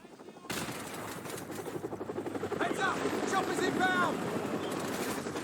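Rapid automatic gunfire rattles at a helicopter in Call of Duty Modern Warfare Remastered, a steady stream of shots over droning rotor noise, with a player talking over the action.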